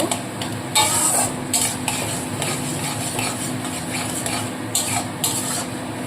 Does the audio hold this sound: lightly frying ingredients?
yes